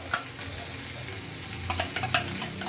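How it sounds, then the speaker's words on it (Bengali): Spice paste with ground melon seed and cashew sizzles steadily in oil while being stirred, a continuous close frying hiss with occasional soft scrapes and no voices. "এবার খুব ভালো মশলাটা কষিয়ে দেখাচ্ছি"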